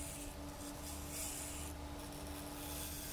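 Bowl gouge cutting a spinning maple log on a lathe at about 900 RPM, a faint steady rubbing hiss with a constant motor hum underneath, no talking.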